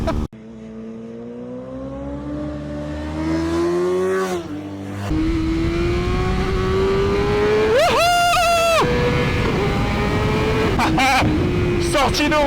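BMW motorcycle engine, a GS model, held at full throttle, climbing in a loud sustained whine through the gears, with a sharp rev burst partway and voices talking over it.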